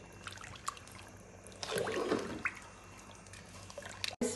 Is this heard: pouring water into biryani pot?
yes